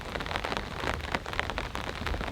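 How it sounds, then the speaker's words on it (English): Heavy rain from Hurricane Debby pours down on an off-grid cabin: a loud, dense, continuous patter of drops drumming on the surfaces, with no talking. "it's raining."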